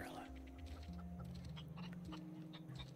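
Chicken clucking in The Outer Worlds, a few soft clucks and squawks under a low droning game soundtrack, quiet and mid-distance, with a player's voice speaking over it.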